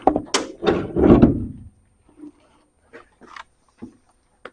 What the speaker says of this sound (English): Let's see if we can get this door to just lift straight off.